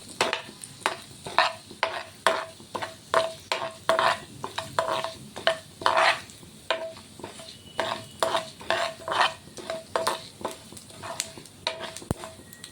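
Arbi (colocasia) frying in a pan with idli lentils, a spoon scraping and stirring in a steady rhythm of clinks and scrapes over a low sizzle, close and fairly loud, with no talking.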